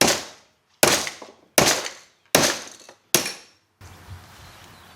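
A hammer strikes a welded stud held in a vise, trying to break a 1999 Jeep XJ shock mount weld: five sharp metallic cracks in a steady rhythm, each ringing briefly, then a quieter scrape at the end.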